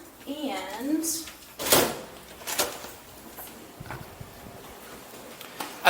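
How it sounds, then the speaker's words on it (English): People walk through access doors into the lobby of a university residence hall. A few sharp door clunks and footsteps sound close by, with someone talking over them. "We're going to walk back through the access doors into the lobby."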